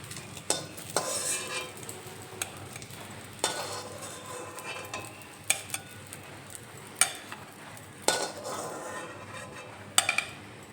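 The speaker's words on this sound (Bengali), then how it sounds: "এখানে অমলেটের পিসগুলো আমি উল্টে দিলাম, একটু ভাজা ভাজা হলে নামিয়ে নেব" Omelette pieces turned over and frying in a pan make a soft continuous sizzle, broken by repeated sharp clicks and scrapes of a utensil against the metal, with no voices.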